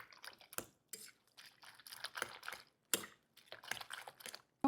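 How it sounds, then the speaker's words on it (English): Salmon pieces being mixed and broken apart in a bowl, making soft wet squelches and scraping clicks of a utensil in irregular close bursts, faint and without talk. "I mixed it well to break apart the salmon pieces"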